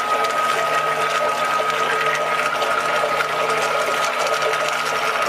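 The motor-driven mixing paddle of a homebrewing system spins in an empty vessel, giving a steady, loud mechanical whir with a constant tone that runs without a break.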